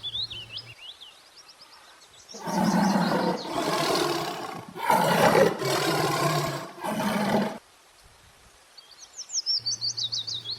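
A tiger roars in four long, loud, growling bursts, with bird chirps before and after the roars.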